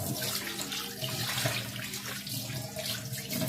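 Tap water runs steadily into a sink while dishes are washed after cooking, a constant, moderately close splashing stream.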